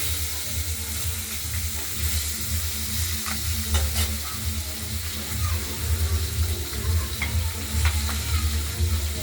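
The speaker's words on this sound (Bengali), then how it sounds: "মাছগুলো আমরা একটু হালকা করে ভেজে নেব।" Pieces of katla fish fry in oil in a pan with a steady, close sizzle, broken now and then by soft stirring and scraping, and no voices.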